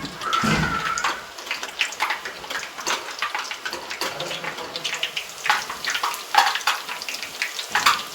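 Fafdi snacks frying in a sweet-maker's oil, a bubbling sizzle broken by frequent splashes and scraping strokes from a slotted ladle, close and busy with no talking.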